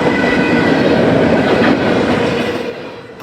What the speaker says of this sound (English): The train is I-192, a train off the Union Pacific destined for CSX's large intermodal mixing yard in North Baltimore, Ohio